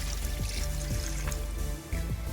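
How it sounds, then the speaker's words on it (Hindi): A cup of water poured into mutton in a cooking pot for Chinese-style restaurant mutton karahi, a steady close trickling pour with a low hum underneath, no talk. "पानी ऐड करेंगे 1 कप।"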